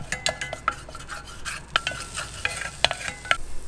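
Garlic fries in a pan for a quick lunch-box recipe, a light sizzle under repeated clinks and scrapes of a spoon stirring against the metal in an uneven rhythm.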